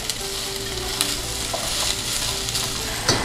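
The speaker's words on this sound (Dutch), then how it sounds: "En dan ga je alles mooi even goed bakken." Paprika and carrots frying in a pan, a steady close sizzle with occasional stirring clicks and scrapes, no talk.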